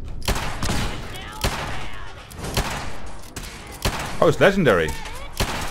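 Gunfire in Fallout 4, loud sharp shots in an irregular string with short pauses, thumping impacts between, close by, and someone briefly talking over it near the end.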